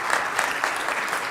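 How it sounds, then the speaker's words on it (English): Audience applause fills a conference session hall during a data week event, a steady wash of clapping from a seated crowd lasting the whole short moment, fairly close and even in level. "big round of applause"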